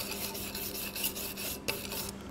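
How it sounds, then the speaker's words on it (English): A wire brush rasps over slag on a freshly stick-welded steel lap joint, several quick scrubbing strokes close by with a sharper scrape near the end. "And we'll brush it off there like that. Give it a brush."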